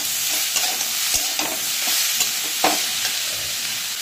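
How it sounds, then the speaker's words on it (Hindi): Garlic and green chilli fry in a pan over a low to medium flame, with a steady close sizzle broken by scraping, clinking stirring strokes throughout. "इसे हम लो मीडियम फ्लेम पर हम इसे फ्राई करेंगे, बीच बीच में इसे हम चेक करते रहेंगे।"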